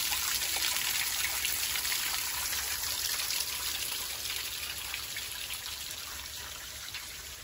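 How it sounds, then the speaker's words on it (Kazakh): Fresh mountain water flows over and between stones by the Caspian coast, a continuous nearby splashing trickle that fades slightly toward the end. "Таудан тастың арасынан су ағып жатыр да мына жерде."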